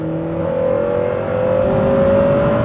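Honda Prelude VTi-R H22 engine revving loud and close, its steady tone climbing smoothly in pitch toward the redline with no pauses.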